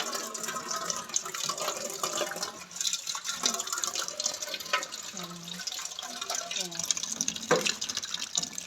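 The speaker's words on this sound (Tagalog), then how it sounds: "Paglalagyan ko na naman yan ng tubig." Water runs steadily as it is poured into empty bottles for drinking-water storage in a home kitchen, a continuous trickling fill with faint clinks and background household noise, no talking.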